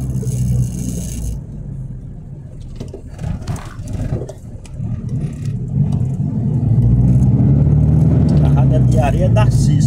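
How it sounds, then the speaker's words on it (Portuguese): A car passes on a road in the quilombo region near União dos Palmares, its engine rumbling up loudly and closely toward the end, with a voice speaking over it. "Passa o carro."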